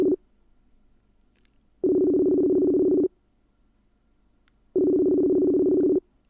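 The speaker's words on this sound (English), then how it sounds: "Come on, pick up the phone." A telephone ringback tone sounds during an outgoing call, with two long, even buzzing pulses of about a second each separated by quiet gaps, clear and alone.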